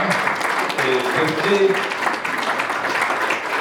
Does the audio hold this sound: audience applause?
yes